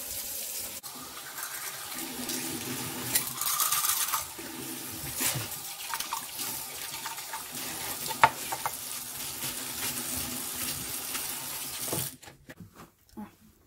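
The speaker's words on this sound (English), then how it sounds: "For this, you guys, I'm going to use some hot water." Hot water running steadily from a kitchen tap while a garbage disposal is being cleaned, a continuous hissing flow lasting about twelve seconds before stopping abruptly.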